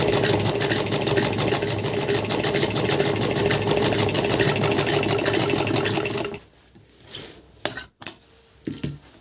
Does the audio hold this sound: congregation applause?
no